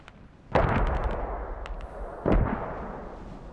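Two heavy mortar blasts in a video game, each a sharp loud boom with a lingering rumbling tail, the first near the half-second mark and the second near the two-second mark, with no talking.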